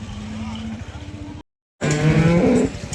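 A cow lows at the Sangola cattle market, two drawn-out moos separated by a brief gap, close and fairly loud, with a voice and general market noise around them.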